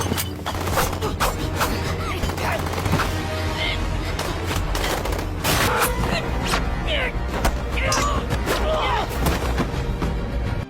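Gunfire in an action film's hostage-rescue scene, with repeated sharp shots and heavy booms scattered over a dense background of score and effects.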